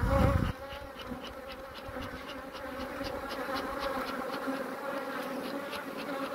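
Honeybees swarm-buzzing densely inside a crowded summer hive during smoking and inspection, a steady, full drone with a loud brief burst at the start, then continuous close buzzing.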